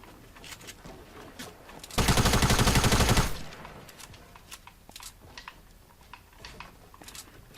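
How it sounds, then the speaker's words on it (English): Fortnite gunfire rattles out in a dense automatic burst of about a second and a half, loud against quieter scattered game sounds and distant pops before and after. "Did I just get shot at from over here?"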